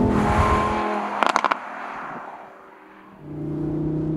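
An Audi R8 with a 5.2-litre naturally aspirated V10 revs loudly, settles back, then rises again, with a few sharp crackles partway through.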